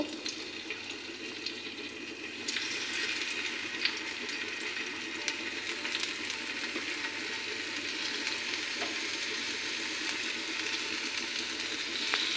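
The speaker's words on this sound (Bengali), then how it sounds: "আমি টমেটোটি একটু ভাজা করে নেব।" Salt-rubbed tomato frying in a pan over a low gas flame: a steady, close hiss of sizzling oil, continuous and even throughout, with no talking.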